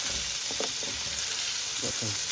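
Steelhead trout fillets sear skin-side in a hot pan, giving a steady close sizzle and crackle, with brief soft stirring or scraping touches as the pieces are turned.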